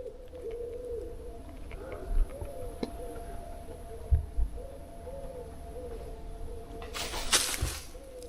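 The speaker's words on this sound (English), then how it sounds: "Just birds, mate, just birds." Pigeons or doves coo in repeated soft, low phrases among woodland trees, with a few brief knocks and rustles nearby and a sharper hiss or flutter near the end; no one speaks.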